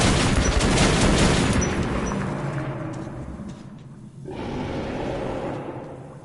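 Video game gunfire, a dense rapid barrage of shots sustained for several seconds, briefly breaking off before another loud volley resumes.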